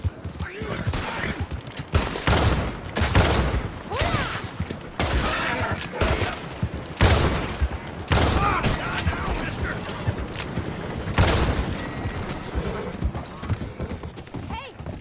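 Gunfire in Red Dead Redemption 2 during a shootout, a string of sharp loud shots at uneven intervals mixed with hoofbeats and horse sounds, with voices talking between the blasts.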